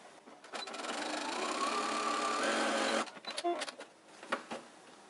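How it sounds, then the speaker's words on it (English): A sewing machine stitches the nose seam of a fabric face mask in one loud, continuous run, then stops and gives a few short bursts of back stitching. "Align your edges and sew the nose part, back stitching both sides"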